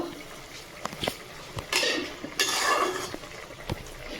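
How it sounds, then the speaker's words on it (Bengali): A metal lid lifted off a pot of bitter gourd and tengra fish curry, with clinking and scraping of the lid and utensils in a couple of short bursts over a faint simmer, close by. "ঢাকনাটা এবার খুলে দেখবো"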